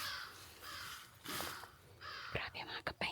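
Crows caw in a few harsh calls toward the end, close and fairly loud over a steady background of noise.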